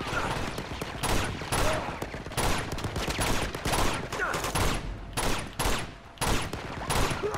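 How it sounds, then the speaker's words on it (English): Machine gun fire in the video game Uncharted 2: Among Thieves at an old monastery, repeated loud bursts of automatic fire with brief gaps, fairly close and continuous throughout. "There's a machine gun over there."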